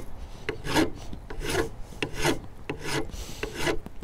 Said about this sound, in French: je mets pas ma lime à plat comme ça, je la mets bien dans ce sens-là et je lime que dans un sens